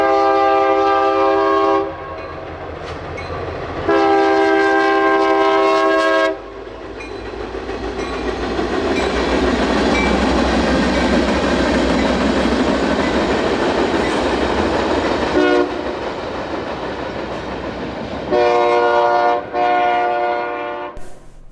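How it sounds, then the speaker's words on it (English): A westbound local freight train near Reno crosses a new bridge on its way to Sparks Yard. Loud, long horn blasts come at the start, middle and end, with a steady rumble of rolling cars between them. "Here's a westbound local heading back to Sparks Yard"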